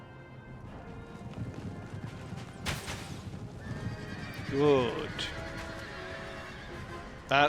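In a video game battle, a horse whinnies in a rising, wavering call amid busy battle din and hoofbeats, with someone speaking briefly over the noise.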